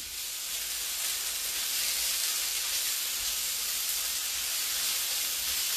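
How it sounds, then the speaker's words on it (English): Onions, peppers and potatoes sizzling in a pan, a soft steady hiss of frying vegetables, fairly faint and even throughout with no other sounds. "We're going to throw in our onions, peppers,"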